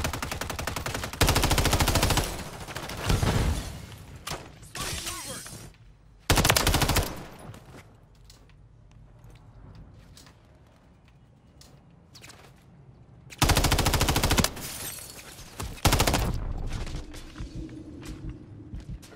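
Automatic gunfire in a Call of Duty-style shooter game, loud bursts of rapid machine-gun fire recurring in several volleys with quieter game ambience in between.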